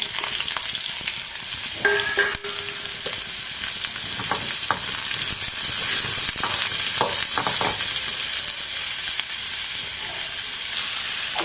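Radish pieces and green chillies fry in a pan for a chutney, a steady bright sizzle running throughout with a few soft scrapes of stirring and no talking.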